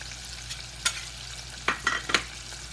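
Dogfish livers sear in a hot pan, a faint steady sizzle punctuated by several sharp clicks and scrapes of a utensil against the pan.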